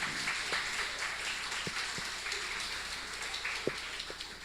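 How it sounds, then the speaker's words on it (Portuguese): A church congregation claps for a woman during a Sunday morning service, producing a soft, diffuse wash of applause with a few sharper individual claps standing out. "Palmas para a irmãzinha."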